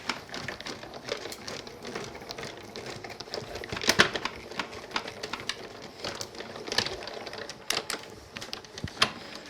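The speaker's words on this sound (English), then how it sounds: "Put them onto our cutting plate and run them through." A die-cutting machine feeds a cutting plate through with a steady mechanical rattle and rapid clicking, punctuated by sharper clacks, running continuously at moderate level.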